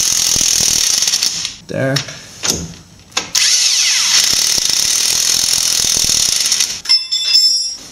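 Ratchet wrench turning on the front strut of a Subaru Forester during a quick-strut replacement, a run of clicking mechanical strokes with brief pauses, close by, plus a short spoken word.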